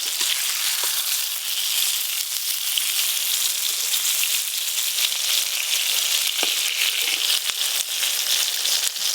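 Eggplant slices fry in hot oil with a loud, steady, crackling sizzle that holds evenly throughout, broken by an occasional sharper pop and no voices.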